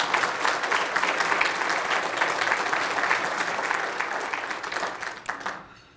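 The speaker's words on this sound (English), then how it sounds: "Let's give her a round of applause." Sustained audience applause fills a Martin Luther King Jr. Day breakfast hall, steady and dense for most of the stretch before fading out near the end.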